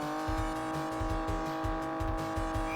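A video game car accelerates hard with a loud, steady, buzzing engine drone and a pulsing low rumble, alone and close for a few seconds.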